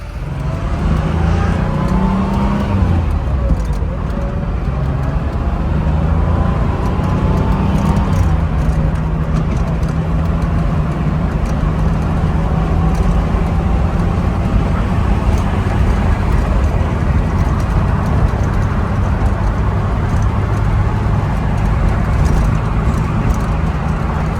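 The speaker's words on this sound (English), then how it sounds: "so the car obviously runs and drives" Car engine running steadily from inside while the vehicle drives, a continuous loud low drone with some rising revs early on and constant road noise, no talking.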